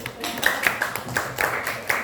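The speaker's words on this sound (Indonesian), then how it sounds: "Tepuk tangan dulu." Scattered hand clapping from a small audience after a classroom presentation on digital and analog technology, a few sharp claps spread over two seconds, fairly close and moderately loud, with voices murmuring underneath.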